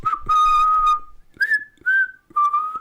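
A person whistles a short tune nearby, loud clear notes in a few phrases with brief breaths between them, and no other sound.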